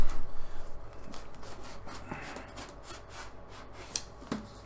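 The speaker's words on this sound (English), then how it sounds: "So let's get the trusty knife. Woo! And open this bad boy up." A knife slices through the tape and cardboard of a subscription box, giving close, scratchy rubbing and dragging sounds that start louder and then fade, with a couple of small sharp ticks near the end.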